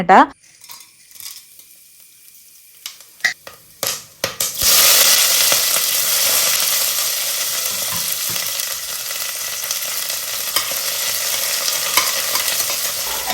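Cinnamon, cloves and cardamom dropped into hot coconut oil in a pressure cooker, first a few metallic clinks and taps, then a sudden loud hiss that settles into a steady, close sizzle.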